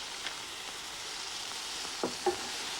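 Minced pork seasoned with salt and black pepper frying in a pan, heard as a faint, steady hiss with a few soft stirring scrapes near the end.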